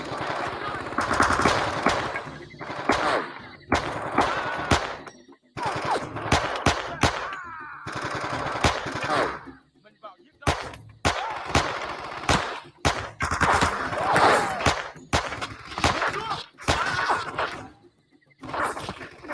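Loud gunfire fills a Vietnam War shooter, Men of Valor: long, dense bursts of automatic fire come in repeated volleys, with short silent gaps between them.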